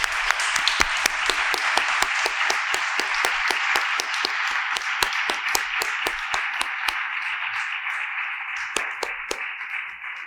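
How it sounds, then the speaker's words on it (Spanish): An audience at a conference on women and the Greek world claps steadily after a lecture, a continuous wash of applause with distinct sharp individual claps standing out, lasting throughout and fading slightly near the end. "Así que muchísimas gracias y un aplauso para ellos."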